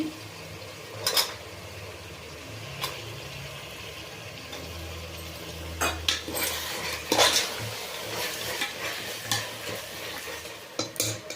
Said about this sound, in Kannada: ಕಡಲೆ ಬೀಜ ಹಾಕ್ಕೊಳ್ತಾ ಇದ್ದೀನಿ